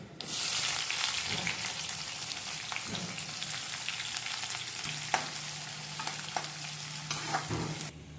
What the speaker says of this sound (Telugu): ఇప్పుడు మనం ఉల్లిపాయ పచ్చిమిర్చి వేసుకున్నాం